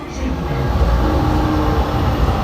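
An airport terminal train rolls along with a steady loud rumble and hiss, continuous interior ride noise without breaks.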